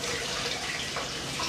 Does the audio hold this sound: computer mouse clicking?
no